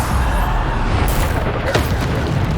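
Bombarda blasting spell explosion in Hogwarts Legacy, a dense sustained rumble of booms with a sharper crack near the middle, loud and continuous throughout.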